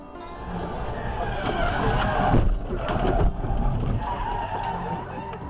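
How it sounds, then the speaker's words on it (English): A Chevy Bolt EUV slams into the side of a sedan on a highway, a loud crunching impact with skidding tires amid steady road noise, the heaviest hits coming in bursts around the middle of the clip. "Our submitter had no chance to stop in time, slamming into the side of the other car."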